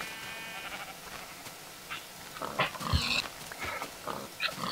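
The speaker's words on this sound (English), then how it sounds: "There's a sheep trying to get in." Sheep in Minecraft bleat in short, faint calls scattered over a quiet background, several separate baas rising and falling in the distance.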